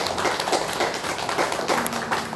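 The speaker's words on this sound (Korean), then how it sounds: "우리 모든 영광을 하나님께 박수로" Church congregation applauding during a Sunday worship service, a steady wash of many hands clapping at moderate volume throughout, with no voices over it.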